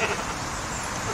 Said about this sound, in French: Je vous propose de présenter le grand cormoran.